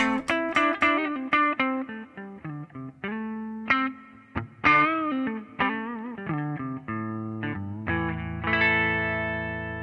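Electric guitar with humbucker pickups, switching between treble and rhythm settings, played through the Bias FX amp app on iOS with effects processing. Plucked notes and chords ring out clearly with chorus-like shimmer and light distortion, ending on a sustained chord, with no talking.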